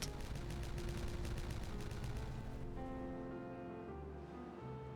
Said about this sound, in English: so if I detonate that